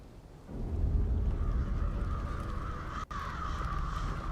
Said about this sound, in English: Damn it. The crows.